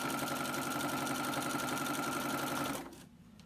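A sewing machine stitches steadily around the edge of a small quilt, a fast, even mechanical whir running loud and close for nearly three seconds before stopping abruptly.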